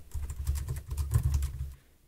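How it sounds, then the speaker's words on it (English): Typing on a computer keyboard while writing a blog post, a steady patter of quick light key clicks for under two seconds, close and fairly quiet, then stopping. "I start typing"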